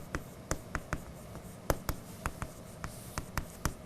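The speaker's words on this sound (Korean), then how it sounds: "항목을 좀 써볼게요." Marker or chalk tapping and scratching on a classroom board as items are written out, a steady run of sharp little strokes and taps close by with no talking.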